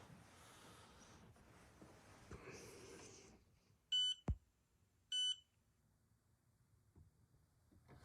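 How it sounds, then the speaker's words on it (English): A MATE 2 200W charger gives two short, high electronic beeps about a second apart when a 5200 mAh LiPo battery finishes charging, over a quiet background with faint rustling. "That was it. Two beeps. Beep, beep, and done."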